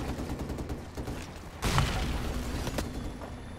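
A sudden burst of gunfire in the video game Modern Warfare cuts in over a constant rumbling background, followed by a few sharper single shots, loud and close.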